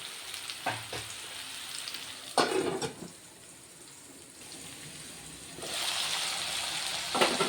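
Ridge gourd pieces frying in oil make a soft, low sizzle, broken by a few sharper stirring scrapes and a louder burst of crackle near the end, with no one talking.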